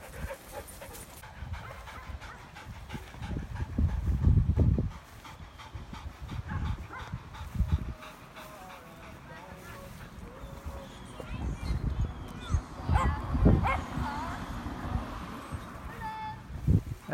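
A female dog whimpers and pants close by, soft high whines recurring over a low rumbling background, with occasional clattery movement noise and no clear talk.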